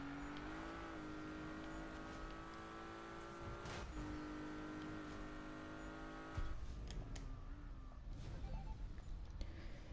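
A Porsche race car in Need for Speed 2015 runs a circuit with a steady, loud engine drone, shifting pitch as it accelerates, and a tyre squeal and louder surge near the end.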